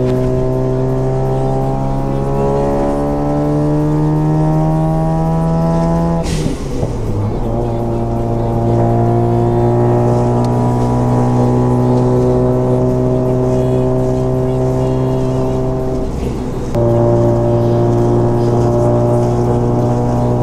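A standard 1.3-litre car engine revs hard at a festival of speed, loud and close, its pitch climbing through gears with a sharp shift drop midway and another later.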